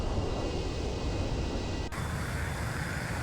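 A jet aircraft roars during takeoff from a carrier deck in a Sea Power naval game, a steady loud engine wash with a sharp shift partway through, with no voices.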